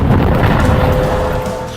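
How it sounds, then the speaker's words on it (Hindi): An anti-tank missile strikes a military post on the Lebanon border, and a heavy, rumbling boom rolls out loud and low, then slowly fades. "पहले धमाका, फिर पोस्ट का बड़ा हिस्सा ढह जाता है और आग लग जाती है"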